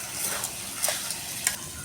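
Minced meat and potato curry stir-fried in a pan, a soft steady sizzle with a few scraping stirs of a spoon against the pan, close and alone.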